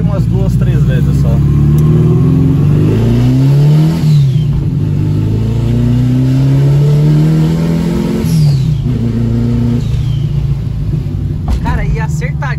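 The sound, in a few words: turbocharged car engine revving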